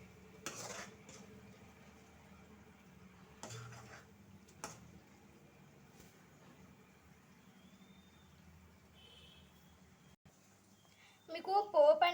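A spoon stirs red chilli pickle (pandu mirchi pachadi) in a pot, giving a few faint, sparse scrapes and clinks in a quiet room before a voice starts speaking.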